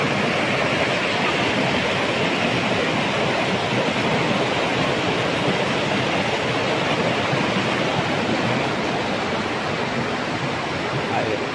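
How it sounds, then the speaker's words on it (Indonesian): A waterfall at its first tier in Aceh Tenggara roars as a dense, unbroken wash of falling water, loud and steady throughout with no voices over it. "Baru ini kita nyampe di air terjun ke tingkat pertama."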